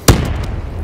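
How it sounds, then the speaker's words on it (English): A single loud explosion goes off in Call of Duty Black Ops 3 near an HCXD drone, a sharp blast followed by a rumbling decay, with no talk. "I was 20 feet above that HCXD floating in the air, and this explosion got me"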